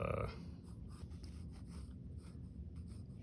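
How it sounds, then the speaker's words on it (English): Blue ballpoint pen drawing in a sketchbook, soft scratchy strokes continuing steadily at close range on paper, faint and alone. "use a blue ballpoint pen to draw in the rest"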